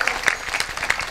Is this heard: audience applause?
yes